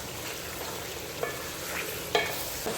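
A teaspoon each of garlic paste and ginger paste frying in a pan makes a continuous close hiss and crackle, broken by a couple of light utensil taps, with no one speaking.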